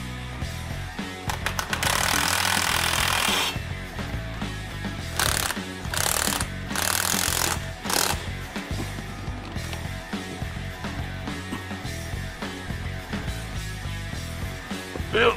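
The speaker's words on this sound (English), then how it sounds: "Then torque it to specs." Wrench tightening exhaust pipe bolts to spec on a vehicle, giving repeated clanking and ratcheting mechanical sounds with bursts of louder broadband noise, close and fairly loud throughout.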